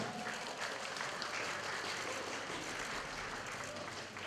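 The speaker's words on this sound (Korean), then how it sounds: "여러분 큰 박수 부탁드립니다." Audience applause at a ceremony appointing the 2018 Korea Creative Content Agency public relations ambassadors, a steady, dense clapping that fills the whole stretch at an even level with no voices on top.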